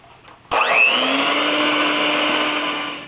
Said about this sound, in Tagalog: Gagamitin natin uli yung electric mixer para i-mix itong mga ingredients na to.